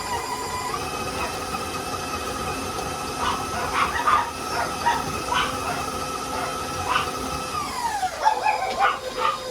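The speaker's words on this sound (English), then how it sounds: "My dogs are barking." Several dogs bark in short irregular bursts from the middle onward, heard from a kitchen where a stand mixer creams butter and sugar, its steady hum running throughout beneath the barking.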